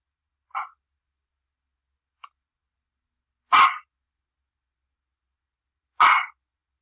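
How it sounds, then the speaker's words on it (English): A dog barking indoors during a home video call: four separate short barks, the first two smaller and quieter, the last two louder and fuller, spaced over several seconds of silence. "I'm so sorry about this dog."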